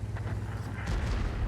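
Tank cannon shot in a tank battle video game, a deep booming report with a heavy low thump, followed by a louder burst of impact noise near the end.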